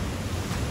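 Water pours down at Bo Ella waterfall near Mawanella, a steady broadband rushing roar, close and loud, with no voices over it.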